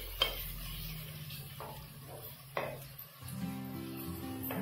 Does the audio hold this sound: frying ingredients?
yes